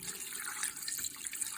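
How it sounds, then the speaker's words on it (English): Water poured into an Instant Pot over chicken, onion and garlic for soup, a continuous bright splashing trickle, close and moderately soft, with no speech. "And we're gonna add the water."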